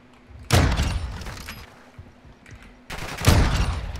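Sniper gunfire in an online shooter video game, with two loud sharp shots about three seconds apart, each trailing into a brief rumbling echo, no talk in between.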